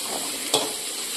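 Onion, garlic, chili and tomato fry in a pan for tempered rotla, giving a steady close sizzle with one brief louder stir or clatter midway.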